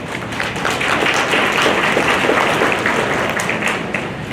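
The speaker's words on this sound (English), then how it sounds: "let's give her a round of applause" An audience at an elementary school parents' meeting claps to welcome a guest speaker, a sustained, fairly loud round of applause with no talking.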